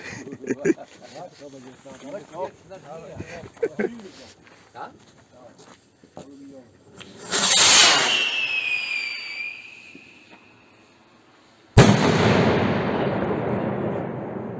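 Voices talk, then a cobra firework rocket whooshes upward with a whistling hiss, followed by a loud bang and lingering crackle.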